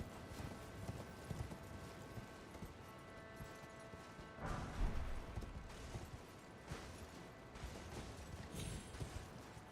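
Rhythmic clip-clop of horse hooves at a steady gallop in Elden Ring, fairly close, over a busy background of ambient game sounds with a few louder bumps.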